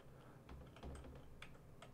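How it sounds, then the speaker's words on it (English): Arrow keys pressed on a computer keyboard while editing titles in PowerDirector, a few light, sparse clicks over a low steady room hum, faint and close, with no talk. "So I'm going to use the arrow keys again."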